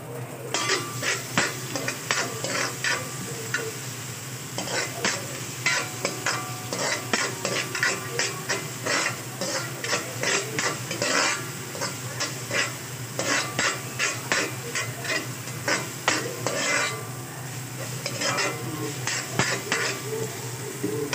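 Garlic and onion sauté in a pan for a fish dish, a soft steady sizzle under repeated sharp scrapes and clinks of a utensil stirring against the metal, the strokes coming in irregular clusters throughout.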